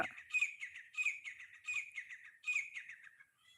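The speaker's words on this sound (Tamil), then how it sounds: "இங்கிட்டு மயில் கத்துது அங்கிட்டு குயில் கத்துது" A koel calls alone in four or five quick, bright, repeated phrases, fairly faint and at a distance.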